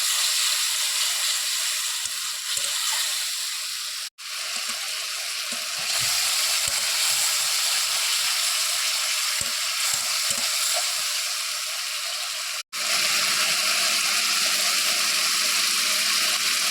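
Egg and potato curry masala with salt is sautéed in a pan, making a long steady sizzle broken by two brief cuts, with occasional soft stirring knocks underneath.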